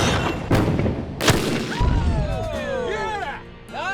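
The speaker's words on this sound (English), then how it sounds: "It threw the cannonball the full length of the course." A duct tape cannon loaded with black powder fires a cannonball outdoors: a sharp loud boom, then a second thump, followed by cheering and excited shouts from a crowd.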